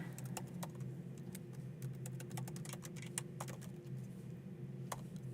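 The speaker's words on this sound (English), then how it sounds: "we can do that by just typing out vesting treasury" Fingers type on a computer keyboard in quick, irregular bursts of soft clicks over a faint steady hum, close and fairly quiet, with no talking.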